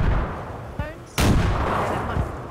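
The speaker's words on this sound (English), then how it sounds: "Get inside, Matt. Grenade." A grenade blast in the DayZ video game arrives as a sudden loud boom with a long rumbling tail, preceded by a smaller thud, set against steady background noise.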